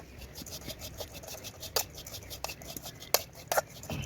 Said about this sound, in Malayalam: ഉണക്ക തേങ്ങയും കൂടെ ഒന്ന് വറുത്തെടുക്കാം